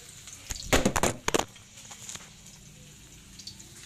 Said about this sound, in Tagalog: Nalaglag ang camera.